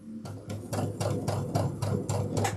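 A sewing machine stitching a backpack at a long stitch length, running in short repeated bursts of rapid mechanical chatter with brief pauses between them, close and clear without speech.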